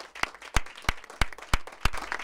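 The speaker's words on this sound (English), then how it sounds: "Let's give these guys a round of applause." Sharp, sparse claps ring out at an uneven pace, a handful of hands applauding close by rather than a large crowd.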